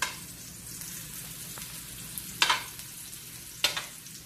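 Garlic and onion sautéing in a pan give a constant soft sizzle, with two or three sharper scrapes or clinks of a utensil standing out near the end, and no voices.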